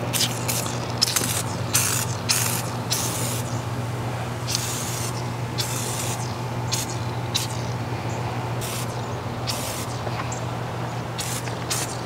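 Spray bottle misting the engine bay of a Dodge Charger Hemi, delivered as repeated short hissing squirts in an irregular rhythm over a steady low hum, close and fairly loud.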